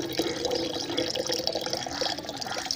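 Water is poured out for a baby pigeon, a steady splashing and trickling liquid sound, continuous and fairly loud throughout with no talk.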